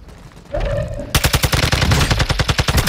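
Rapid automatic gunfire in a shooter game breaks out after a brief quieter moment, a loud fast burst of closely spaced shots continuing steadily to the end.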